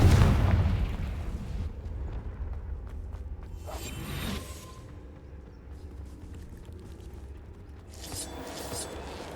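The Confringo explosive spell is cast in Hogwarts Legacy, opening with a heavy booming blast that rolls off, then lighter fiery bursts and whooshes, moderately loud within game combat noise.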